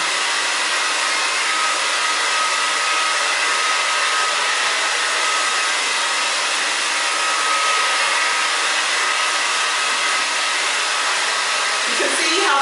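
A hair dryer blows steadily and loudly up close while drying and lifting a woman's hair for volume, a constant airy whir holding level throughout with no talking.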